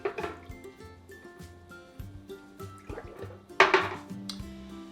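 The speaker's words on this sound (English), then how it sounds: "I'm just going to put these glasses in there." Glass jelly jars clink against a metal pot and each other as they are set into very hot water, several sharp knocks with gentle sloshing between.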